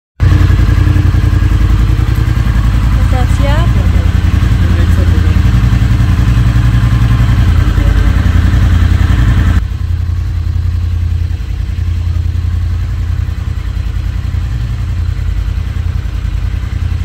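A motorcycle ridden in winter, its engine giving a steady loud drone with wind rumble and occasional clatter, heard close throughout without talk, the noise dropping slightly partway through.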